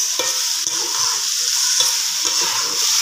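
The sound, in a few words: stirring and frying masala with chilli sauce and vinegar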